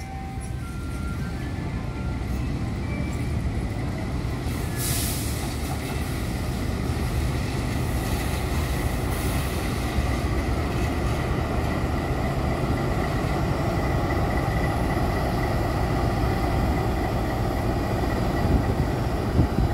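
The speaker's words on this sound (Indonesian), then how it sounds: "CC206-1398 saat ini sudah masuk di jalur 1, jalur lurus stasiun Raja Pola" A special train hauled by CC206 diesel locomotive CC206-1398 rolls into track 1, the straight line at Raja Pola station, giving a steady low rumble of engine and wheels throughout with no speech.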